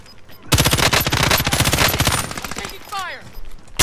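Gunfire in the battle royale game Warzone: a long, loud, rapid automatic burst of evenly spaced shots lasting about two seconds. A short chirping game sound and scattered noise follow as it trails off.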